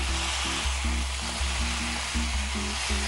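Ridge gourd, already boiled, being fried dry in a pan with sesame: a steady, close hiss of sizzling oil that runs throughout, with a low hum underneath and no talking.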